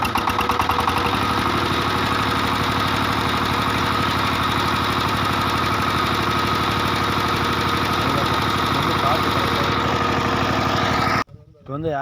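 A small diesel engine of a Kirloskar Mega T 15HP power tiller running at a steady idle, rhythmic chugging and mechanical vibration close by, cutting out abruptly near the end.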